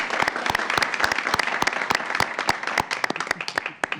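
People in a city council chamber applaud a councilmember at an ordinance vote meeting, a fairly small group whose individual sharp claps stand out loud and near, steady but uneven in rhythm.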